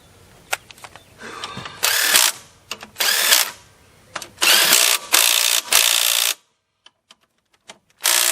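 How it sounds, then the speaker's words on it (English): A socket wrench working on an alternator bolt of a Ford F350 6.0 runs in loud, buzzing mechanical bursts of a second or so, separated by short pauses, then fades to near silence with a few faint clicks. "Just check it with the socket wrench here"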